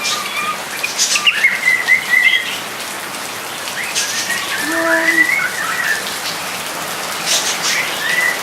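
Steady rain patters on a garden while several birds chirp and whistle intermittently, one lower tonal call standing out midway, all fairly close and without speech.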